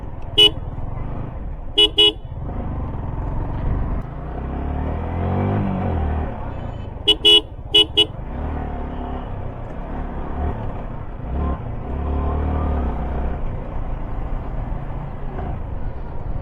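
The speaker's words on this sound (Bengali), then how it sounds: "টাউনে এইভাবে ট্রাফিকে বাইক চালানোর মজাটা একটু আলাদা রকমেরই" Busy town traffic heard from a moving motorbike, a Yamaha R15, with a steady engine and road rumble throughout and several short car horn toots in quick pairs near the start and middle.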